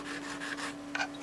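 Hand engraving graver face angle being sharpened on a stone, short faint scraping rubs in a few quick strokes, with a brief louder rasp near the end.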